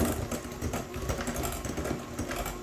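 An electric mixer whirs steadily as it blends a block of cream cheese, half a stick of soft room-temperature butter and a teaspoon of vanilla, a continuous buzzing drone with slight wobbles in load.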